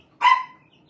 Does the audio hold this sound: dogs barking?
yes